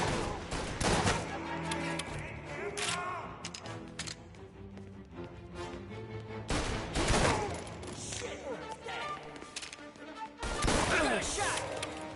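Heavy gunfire from a shootout in Mafia Definitive Edition erupts in loud volleys and rapid bursts, with quieter stretches between them and music and voices running underneath.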